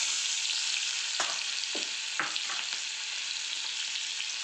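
Onion fries in a sputtering cumin and mustard seed tempering in a wok: a constant close sizzle broken by a few sharp pops and crackles.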